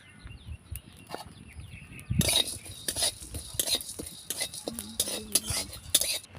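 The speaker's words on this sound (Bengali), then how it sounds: "তো চলুন প্রথমে শুকনো মশলাগুলোকে আগে ভেজে নিই" Whole dry spices are roasted in an empty wok without oil, giving a quiet start and then repeated scraping, rattling stirs and light metallic clinks at close range.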